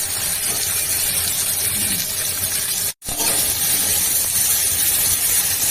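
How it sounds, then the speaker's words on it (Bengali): Raw green banana and drumstick pieces fry in oil in a kadai for shukto, giving a loud, steady sizzling hiss that runs throughout with only a momentary gap midway. "আবার কড়াইগুলো একটু ভাজিয়ে দিয়ে দিচ্ছি।"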